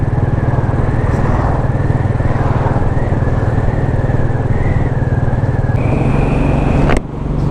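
A brand new Royal Enfield Classic 500 motorcycle cruises along a road at about 30, its single-cylinder engine thumping loudly and evenly up close under wind rush, with a slight rise in pitch near the end before the note cuts off abruptly.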